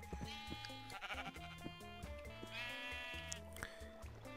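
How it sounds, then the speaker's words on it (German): Sheep in the video game Minecraft bleat repeatedly, several wavering calls one after another at moderate distance over a quiet background, with no talk. "Oh, diese Schafe, ne? Die Schafe, die regen mich einfach auf."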